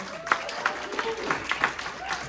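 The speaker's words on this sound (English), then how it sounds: "Can we give Julia a round of applause?" Short round of audience clapping at a company presentation in Irvine, California, with a voice speaking over the applause.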